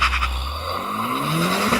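A Honda Civic Type R launches hard from a standstill, its tires squealing and spinning as the engine roars and rises in pitch, loud and close throughout with no talking.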